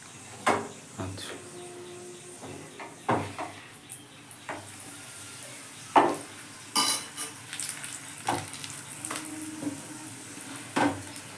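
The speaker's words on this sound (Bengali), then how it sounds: "এবার তেলে ভাজছি" Potato dough flatbread frying in oil, a soft low sizzle broken by sharp clinks and scrapes of a utensil against the pan, several spaced knocks, no talking.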